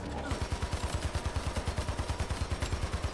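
Rapid automatic gunfire in Hypercharge: Unboxed, a steady fast-paced stream of evenly spaced shots running nearly the whole clip, close and fairly loud over dense background game noise.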